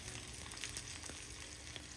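Crushed garlic and dried red chillies sizzling in hot oil for a tempering, a soft, steady crackle with faint pops, close and continuous with no voices.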